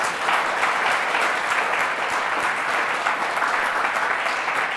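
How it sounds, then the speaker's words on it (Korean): Dense, steady applause from a large crowd of soldiers at a Buddhist service, a continuous wash of clapping that holds evenly throughout. "박수 한번 쳐봐"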